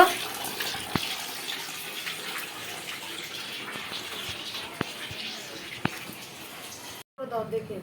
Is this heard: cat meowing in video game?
no